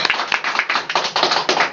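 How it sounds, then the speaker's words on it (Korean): A short burst of dense audience applause at a book club TED video discussion session, rapid overlapping hand claps carrying loud and close with no talk over them. "박수 한번 다시 한번"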